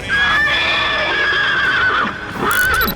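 Horses at the Hola Mohalla festival neigh loudly and close by, with a long shrill whinny followed by a second call and faint hoof clatter underneath.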